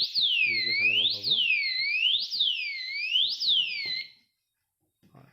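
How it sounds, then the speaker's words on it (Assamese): A motorcycle disc brake lock's anti-theft alarm wails loudly nearby in a repeating rising-and-falling siren for about four seconds before cutting off, with a voice speaking briefly under it. "এলাৰ্মখন বাজি উঠিল কিমান শব্দ হয় আপোনালোকে নিজে চালে গম পাব"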